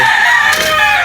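A hen clucks loudly and continuously at close range while laying an egg, a steady strained cackle with no talking over it.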